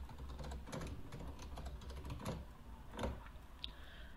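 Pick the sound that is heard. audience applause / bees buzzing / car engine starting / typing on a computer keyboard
typing on a computer keyboard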